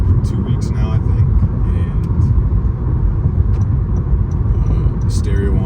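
Steady low road rumble and engine hum fill a car interior while driving, constant and close, with faint knocks and rattles.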